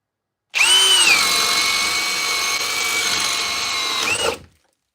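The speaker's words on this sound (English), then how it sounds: "Drill mode, speed 2." A power drill boring with a paddle bit whirs steadily for about four seconds, a loud, close, high-pitched motor whine that spins up at the start and winds down at the end.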